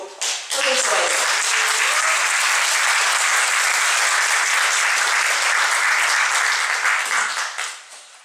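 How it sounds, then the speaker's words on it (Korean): A hall audience at a Korean lecture event applauds loudly and steadily for a former environment minister, with dense continuous clapping that swells quickly and fades out near the end. "뜨거운 박수 좀 부탁드립니다."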